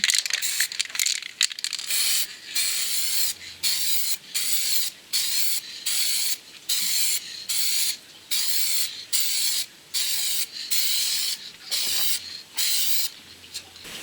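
A spray can lays a light coat of clear coat on sun-damaged car paint in a series of close, loud hissing bursts, each one to two seconds long and separated by short pauses, with no voices.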